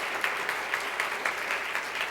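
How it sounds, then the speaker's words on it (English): Steady applause from a large audience at an International Women's Day event, dense clapping at a moderate distance with a slight rhythmic pulse. "So how about a round of applause for their leadership?"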